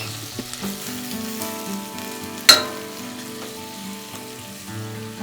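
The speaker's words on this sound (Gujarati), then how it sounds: "બટેટાને થોડાક આછા ગુલાબી રંગના થાય ત્યાં સુધી સાતળવાના છે।" Potatoes sautéing in a pan for sabudana khichdi, a steady close sizzle of frying with a few stirring scrapes and one sharp clank partway through, no voices.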